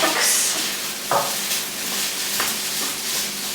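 Syrup cooking in a pan in Bali, a loud, close hiss and bubbling sizzle with a few spoon scrapes and taps as it is stirred.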